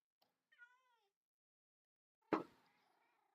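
A Minecraft cat gives one clear, rising meow, followed by a loud burst of in-game clatter and noise.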